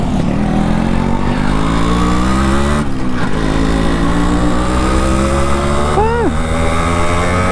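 A 1989 Yamaha RX100 two-stroke motorcycle engine runs close and loud with a steady, throbbing beat that holds for the whole stretch, with a brief rising tone near the end.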